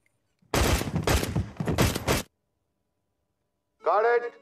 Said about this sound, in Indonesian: Tanpa diduga, sekelompok orang menembak Bachachan hingga meninggal.